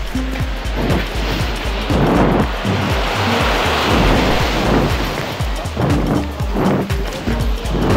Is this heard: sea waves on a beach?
yes